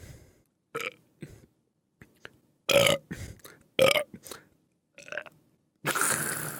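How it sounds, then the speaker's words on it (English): Loud, close burps come one after another at uneven intervals, several short and a few long and rasping, with quiet gaps between them and a final broad, noisy belch at the end. "I'll burp all day."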